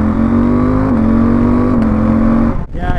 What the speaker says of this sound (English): Let's actually try the quick shifter for a bit.